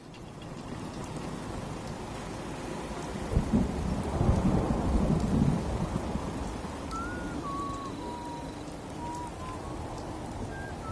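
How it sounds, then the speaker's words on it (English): Rain and thunder in the video game Fallout 4, steady rain on surfaces under a rolling thunder rumble that swells midway, with a faint bird-like chirp near the end. "Just thinking how wonderful it would be to get out of this infernal rain."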